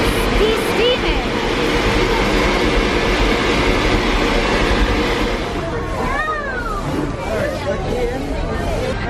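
A steam locomotive, number 4, rumbles and rattles along nearby at Magic Kingdom amid crowd chatter and people talking, with a whistle-like tone sounding in the latter half.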